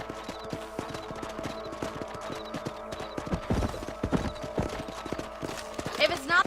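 A horse's hooves clip-clop in a steady trotting rhythm while riding across a ranch in the video game Red Dead Redemption, with voices talking over the hoofbeats.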